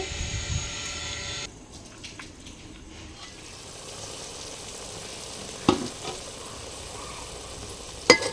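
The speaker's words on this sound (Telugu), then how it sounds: "ఉప్పు పసుపు వేసుకున్నాక మూత పెట్టి మగ్గించుకుందాం." Onion paste seasoned with salt and turmeric cooks in a pan, giving a steady close sizzle that softens after a moment, broken by a couple of sharp utensil clinks. No voices are heard.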